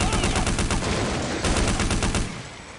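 Rapid automatic gunfire from Counter-Strike: Condition Zero rattles in loud, closely spaced bursts, with several shots ringing out quickly before the firing tapers off at the end.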